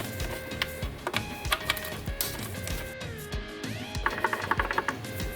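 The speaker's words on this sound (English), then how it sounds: "Unscrew two bolts from the top, use 10mm socket." Two bolts unscrewed with a 10mm socket while working on an injector seal in its seat, a close run of rapid ratcheting clicks and metallic ticks in bursts with faint tool whine.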